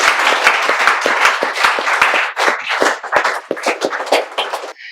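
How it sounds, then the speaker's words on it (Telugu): A classroom of spoken-English students applauds their classmates, a dense burst of many hands clapping close by that keeps up for about five seconds before thinning out at the end. "claps for them"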